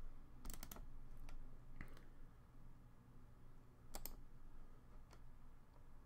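Rust code is typed on a computer keyboard: soft, close keystrokes in short irregular bursts with pauses between, over a quiet room hum.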